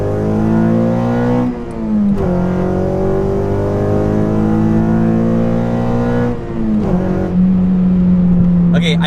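A 9th-generation Honda Civic fitted with a carbon fiber intake accelerates hard through the gears, its engine note climbing steadily in pitch, dropping briefly at two shifts, then rising again, loud and close from inside the car.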